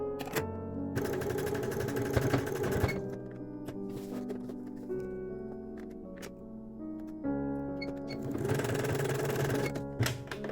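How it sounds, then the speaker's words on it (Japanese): A zigzag sewing machine finishes a cut fabric edge on lace-trimmed underwear, running in two loud buzzing bursts of rapid stitching separated by a quieter pause with soft mechanical clicks and handling. "最後はカットしてジグザグミシンで処理します。"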